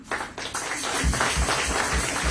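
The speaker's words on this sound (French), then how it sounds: "Myriam, mets-toi debout, qu'on t'applaudit" Church congregation applauding cousin Myriam at a service, a dense, steady clapping that swells quickly and holds loud and close throughout, with rhythmic low thumps beneath.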